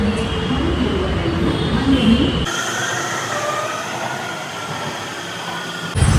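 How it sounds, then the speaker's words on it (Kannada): A metro train rumbles and hisses nearby on a station platform, a steady loud drone with a sharp shift midway as it pulls into the station. "ಮೆಟ್ರೋ ಬಂತು ಅನಿಸುತ್ತೆ"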